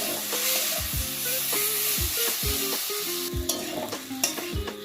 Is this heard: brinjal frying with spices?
yes